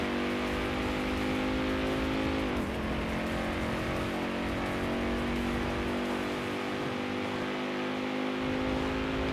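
A Mustang in a GTA roleplay game drives and revs, a loud close engine drone with pitch sweeping down and back up, running steadily throughout.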